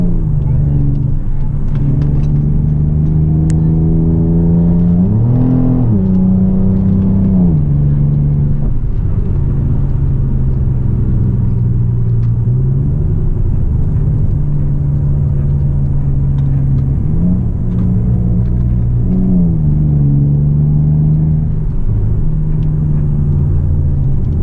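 A car fitted with Eibach lowering springs drives along with a steady, close engine rumble and hum, rising and falling in pitch as it speeds up and shifts, with faint road noise throughout.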